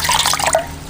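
Betel leaves being rinsed in water, with close splashing, dripping and sloshing bursts that thin out into a faint trickle.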